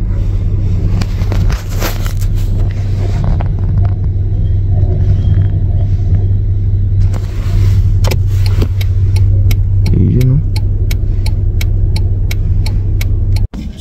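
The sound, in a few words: truck engine running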